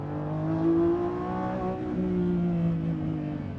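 Mid-engined Lamborghini supercar on a track, its engine revving and holding a strong droning tone with shifting pitch, heard close and alone.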